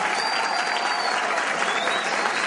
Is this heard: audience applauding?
yes